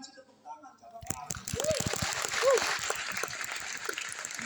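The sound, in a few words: congregation applause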